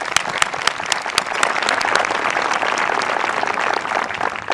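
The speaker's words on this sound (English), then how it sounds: "Let's give them all a round of applause again." An audience at a high school graduation ceremony claps loudly and continuously for several seconds, a dense patter of hands with individual sharp claps standing out.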